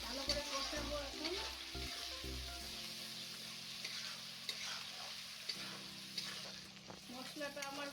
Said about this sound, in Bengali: এখন দিয়ে দেবো হলদি, ভালো করে কষাবো